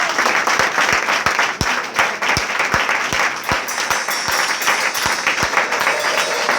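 Sustained applause from a church congregation at a Bible institute graduation and ordination ceremony, honouring the director, with dense steady clapping and sharper individual claps standing out throughout.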